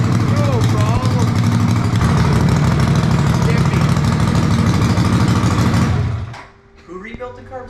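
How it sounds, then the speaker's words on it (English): A racing lawnmower engine with rebuilt carburetors runs with a loud, steady buzzing drone, then cuts off abruptly near the end. Faint voices and clatter follow. "You want me to start your lawnmower?"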